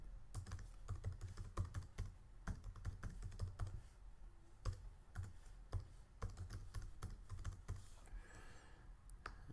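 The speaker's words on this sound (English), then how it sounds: "Put your address in there, and then you type your address in again." Someone typing an address on a computer keyboard, a steady run of close, quiet key clicks with short pauses between bursts.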